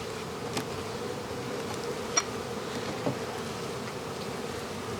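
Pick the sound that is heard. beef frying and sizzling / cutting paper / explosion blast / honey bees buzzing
honey bees buzzing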